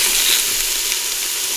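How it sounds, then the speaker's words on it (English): Beef browning with onion in an Instant Pot, a steady close hiss of sizzling with a faint stirring scrape, no talking. "So by browning the beef, you're gonna add another layer of flavor."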